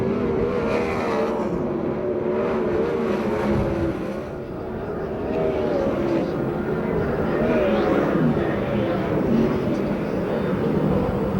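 USAC/CRA sprint cars race down the back straightaway at Perris, California, a steady, loud engine roar sustained throughout with slight swells as the pack passes, under faint crowd and track ambience.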